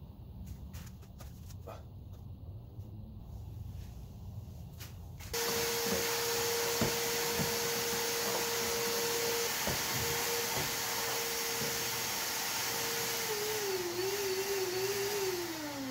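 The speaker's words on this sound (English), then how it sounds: "I also need to get under there and vacuum so we don't have a bunch of spiders invading the house." A vacuum cleaner switches on partway through and runs steadily as a loud close hiss and whine while cleaning under furniture found beside a dumpster. Its tone wavers slightly toward the end.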